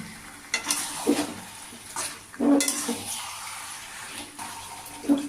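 Chicken curry with green chillies being stirred slowly in a pan, a soft scraping and sizzling texture with a few louder spoon knocks against the metal, close and steady with no talk.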